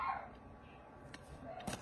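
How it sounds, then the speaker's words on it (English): A small yappy dog barks faintly in the background indoors, a couple of brief sharp yips near the end over a quiet room hum. "pardon for my little yappy dog in the background"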